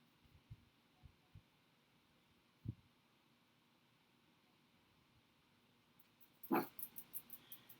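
A dog barks once faintly early on, then lets out a louder, closer burst of several quick barks near the end, in an otherwise quiet room during a live craft stream.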